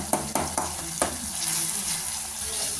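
Tomatoes mashed and sautéed in a pan for okra (ladies finger) gravy: a few sharp spatula taps against the pan over a steady close sizzle of frying.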